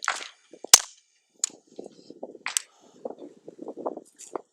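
Suppressed pistol fired in double action, a single sharp muffled crack near the start, followed by quiet handling clicks and a few soft voices.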